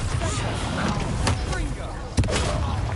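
A Bombarda spell explosion in the video game Hogwarts Legacy lands as a sharp, loud blast near the end, over a busy bed of combat rumble and a voice.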